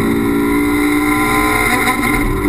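Toyota MR2 race cars cross the line at Donington Park, a steady dense engine roar with layered tones, loud and close for the whole moment.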